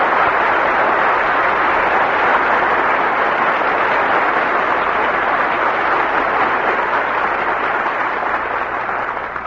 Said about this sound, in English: Your applause calls our stars back to the footlights.